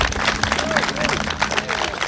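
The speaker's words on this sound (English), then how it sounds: "a big round of applause for Tim and his crew in doing this" Crowd applause for Tim and his crew at a Glastonbury coronation celebration, steady clapping and cheering from a gathered outdoor crowd with voices mixed in throughout.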